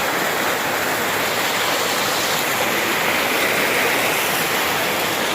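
A waterfall in the West Virginia woods roars close and loud, a dense, unbroken rush of falling water with no voices.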